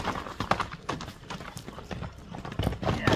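A horse's hooves clip-clop in a fast, steady run of close, sharp beats over a noisy outdoor background.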